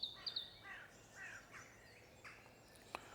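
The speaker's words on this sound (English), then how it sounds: "Birds singing and birds crowing." In a graveyard, distant birds sing and call faintly, a few high chirps early, then softer scattered calls over a quiet outdoor hush; no speech.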